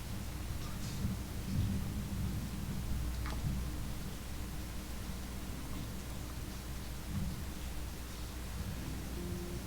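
Steady rain outside with low rumbling thunder beneath it, a constant broadband wash of rainfall at moderate distance and a deep rolling murmur, with no voices.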